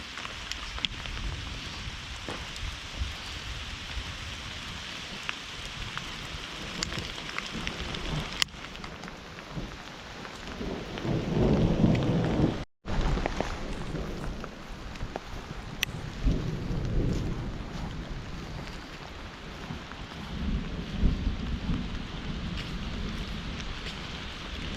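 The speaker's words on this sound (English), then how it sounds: "We're caught in a Thunderstorm? monsoon thunderstorm." A monsoon thunderstorm at nearly 10,000 feet on the Western Slope in summer brings steady loud rain with rolling rumbles of thunder that swell and fade over the downpour.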